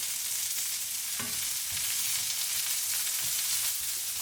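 Firm vegetables, onions and carrots, stir-frying in a pan: a steady loud sizzle throughout, broken by a few scraping stirs, no talking.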